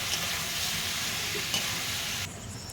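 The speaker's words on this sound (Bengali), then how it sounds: "হলুদটা দেওয়ার পরও ভালো করে নাড়াচাড়া করতে হবে সবজিটা, যাতে চারিদিকে লেগে যায়" Vegetables with turmeric frying in a pan, a dense continuous sizzle with scraping stirring, loud and close, easing slightly near the end.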